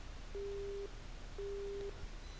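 Two evenly spaced beeps of a telephone busy tone in the video game 428: Shibuya Scramble, faint and steady over a quiet background hum after a call ends.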